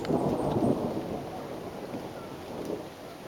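Thunder rumbles steadily through a rainstorm on Salt Spring Island, Canada, a continuous low roar with rain hiss on top that swells briefly and then eases slightly.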